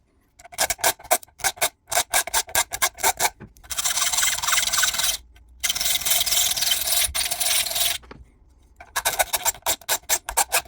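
A hand tool rasps back and forth across wood while a groove is cut for a custom guitar pick, first in quick rhythmic strokes, then in long sustained scrapes, loud and close with no talk.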